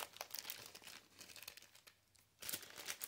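Four spacer pieces grabbed out of a plastic bag while fitting a Thermalright Frost Commander 140 CPU cooler, giving close, soft crinkling and rustling in several bursts with a louder crackle near the end.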